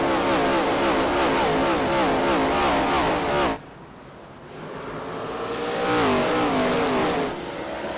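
ARCA race cars at Myrtle Beach Speedway in an eSports racing game roar loudly and steadily. Engine pitch rises and falls as the cars sweep past, with a brief drop partway through before the pack swells again.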